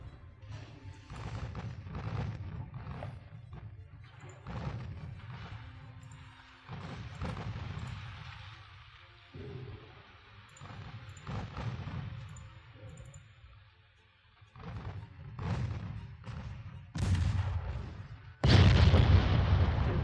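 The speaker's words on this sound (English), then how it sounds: "all them shells are landing exactly where they need to" Naval shells bursting in a warship battle in the game Ultimate Admiral Dreadnoughts, a run of repeated booming impacts and rumbles at irregular intervals, loud and layered, with a sharp, harsh blast near the end.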